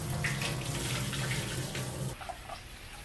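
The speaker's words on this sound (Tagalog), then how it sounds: "Mga pang-apat o limang beses ko nang hinugasan itong bigas." Rice being rinsed in a bowl under a running kitchen tap, a steady close splashing rush of water that thins out near the end.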